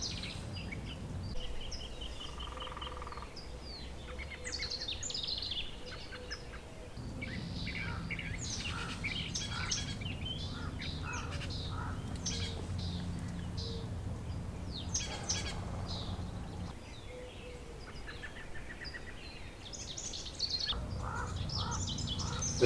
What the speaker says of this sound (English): Nothing like waking up to the sound of birds,